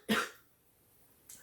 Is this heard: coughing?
yes